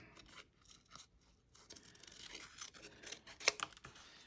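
Scissors cutting Christmas card paper, faint close snips and rustles in an irregular series, with a sharper cut near the end.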